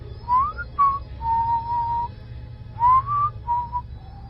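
A mysterious series of whistled notes, some rising and some held, comes in short clear bursts with brief pauses between them, alone against a faint background hiss.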